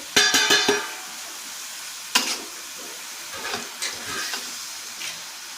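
Chicken stirred in a hot pan gives a steady sizzle and frying hiss, broken by a sharp cluster of stirring scrapes at the start and a few more spoon knocks later, close by with no talk.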